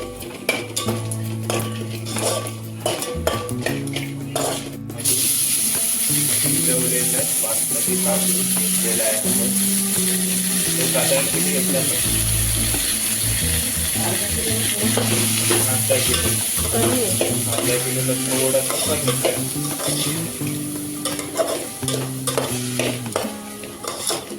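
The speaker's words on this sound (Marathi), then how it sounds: "तूप गरम झालंय आता आपण त्यात सगळे हे खडे मसाले टाकणार त्यानंतर थोडं जिरं देखील ॲड घ्यायचं आणि ते परतून घेणार" Whole spices and cumin sauté in hot ghee for a prawn biryani, giving a steady frying sizzle with occasional stirring clinks from a utensil, heard under melodic background music throughout.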